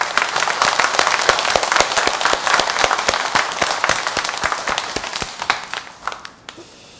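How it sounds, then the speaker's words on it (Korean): Church congregation claps together in praise, a loud, crackling wave of many hands with a few sharp individual claps standing out, sustained for several seconds before thinning and fading out near the end. "우리 하나님께 영광의 박수 올려드립니다"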